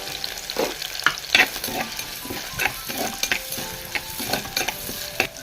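Chopped shallots, ginger and green chilies fry in hot coconut oil, a steady close sizzle broken by frequent scraping stirs of a spoon in the pan, with no voices.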